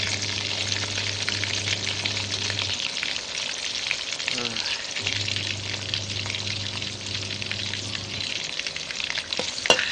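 Pork pieces deep-frying in oil over low heat, a steady broad sizzle that holds for the whole stretch with a low hum underneath, dipping briefly midway.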